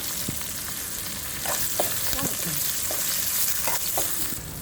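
Onions, chana dal, dried chilli and curry leaves sizzle and fry in a hot pan for a Tamil ragi adai, a steady loud crackle with occasional stirring scrapes and taps.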